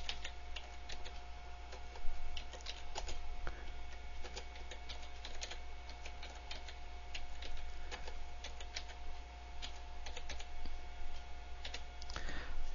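Typing on a computer keyboard while entering text in CAM software, light irregular key clicks scattered across a quiet steady electrical hum, faint and close.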